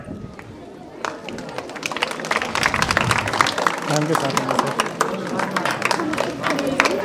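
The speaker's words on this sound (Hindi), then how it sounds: "बच्चों, तालियों में कमी नहीं रहनी चाहिए।" Schoolchildren applaud at a teacher's retirement farewell ceremony, crisp irregular claps that build into a lively, continuous round from a crowd, with a voice speaking briefly near the start.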